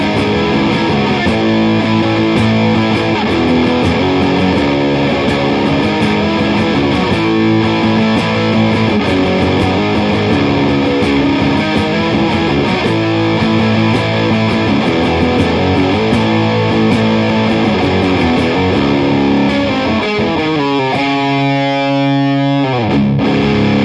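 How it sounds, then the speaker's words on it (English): Electric guitar played through a Pastfx Revolution four-stage overdrive/distortion pedal, thick chugging distorted rhythm chords at high gain, loud and continuous, ending in a ringing sustained chord, no speech. "That's really good rhythm distortion."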